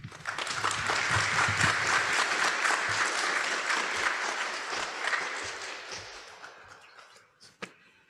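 A conference audience at a global health summit at UPenn applauds after a presentation, a thick burst of clapping that holds strong, then thins and fades out over the last couple of seconds, ending with a few isolated claps.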